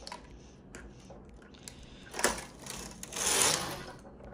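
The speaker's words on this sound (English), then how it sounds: "now I will pick it up, and I'll just bring the carriage here," A knitting machine carriage is pushed across to finish a row, giving a faint rattling and clicking run that swells into a brief louder sweep near the end, close up with no talk.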